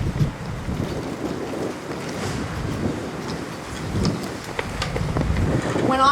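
Gusty wind roars steadily across an outdoor community gathering in Australia on a cold, rainy day, a broad continuous rush with buffeting swells and no voices.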